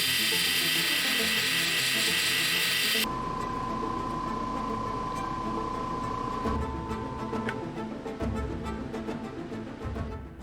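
Cab King cabochon machine grinding and polishing rocks, a loud steady mechanical whir with a gritty rasp, shifting in tone partway through as the stone is worked.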